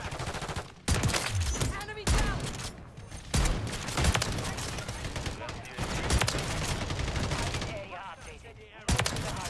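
Repeated shotgun blasts from the Reclaimer 18 in Modern Warfare III, several sharp loud booms spaced a second or two apart amid game noise, with someone talking between shots.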